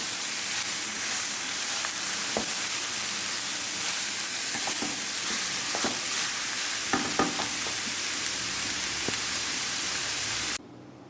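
Bitter gourd thoran cooking covered on a low flame, a continuous hissy sizzle with occasional faint clicks and pops, steady throughout and no voices, cutting off abruptly at the end.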